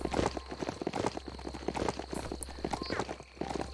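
Hoofbeats of a horse being ridden in the video game Biomutant, a quick steady clip-clop rhythm throughout at moderate loudness, with a constant low game hum underneath.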